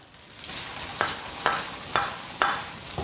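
Cauliflower stir-fried in a hot wok with quail eggs, pork belly fat, soy sauce and cooking wine, giving a steady close sizzle broken by four or five sharp scraping stir strokes at regular intervals.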